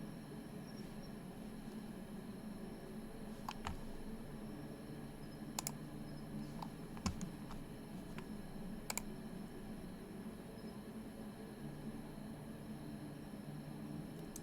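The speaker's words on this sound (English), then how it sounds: "the keyboard is so loud." Faint, scattered clicks of a computer keyboard being typed on during a livestream, sparse taps over a steady low background hum, with a few sharper keystrokes standing out.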